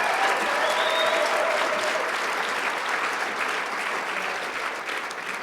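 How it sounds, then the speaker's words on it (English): A university roast audience bursts into applause, a thick, lively roar of many clapping hands that holds steady and then tapers slightly toward the end, with no voices standing out. "let's give a round of applause on that."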